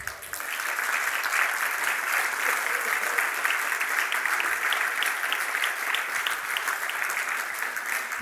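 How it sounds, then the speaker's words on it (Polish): Audience applause at a regional culture congress, steady warm clapping from a large hall crowd, continuous and fairly loud throughout. "No ale teraz to będą jeszcze gorętsze brawa na pewno"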